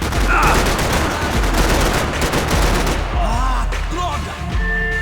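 Rapid bursts of gunfire in the video game Max Payne 3, dense and loud at first, then breaking off into scattered game sounds and a brief voice.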